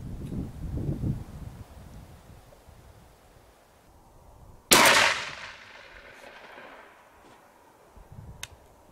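A Beretta Belmonte shotgun test-fired outdoors gives one loud, sharp blast with a decaying tail, set against wind and rustling, with a fainter crack near the end.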